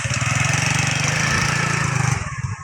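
A motorcycle engine runs with a loud, steady, rapid throbbing putter close by, then trails off near the end.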